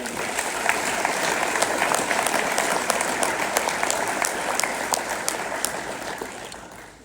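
An awards banquet audience gives a round of applause, with crisp individual claps standing out of a thick, sustained ovation that gradually thins and fades toward the end.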